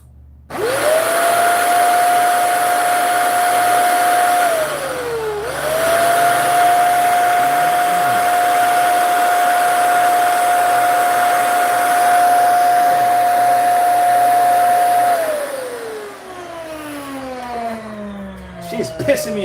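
A Dyson vacuum cleaner under repair runs with a steady, close motor whine and airy rush. It winds down briefly near five seconds, restarts, then spins down again toward the end.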